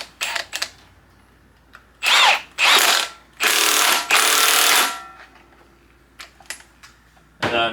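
A big Milwaukee power tool tightens a Loctite-coated bolt during a Miata engine build, firing several loud, close bursts of whirring and rattling impact that last about a second each, separated by short pauses and a few clicks.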